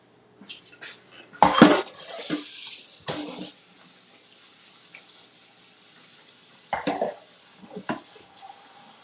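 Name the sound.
rinsing shirataki noodles under the tap in the sink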